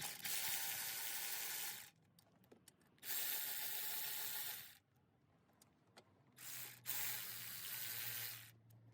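A ratchet clicks out the 8mm throttle body bolts on a Ford Escape, Mariner or Tribute engine, coming in three dense bursts of rapid clicking separated by quiet gaps with faint knocks.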